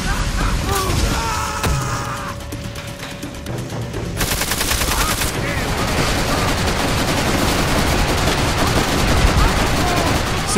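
Machine gun fire in the video game Call of Duty: World at War, heard as dense, continuous rattling bursts and gunfire mixed with mechanical clatter and battle noise, loud throughout.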